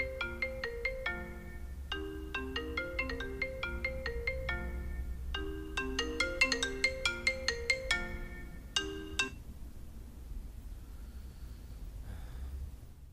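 A phone plays a bright melodic ringtone on an outgoing call. It repeats in several quick phrases at moderate volume, then stops and leaves near silence, with no one speaking.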